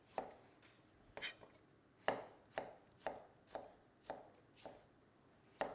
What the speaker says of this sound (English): we're just going to cut all these carrots into little ribbons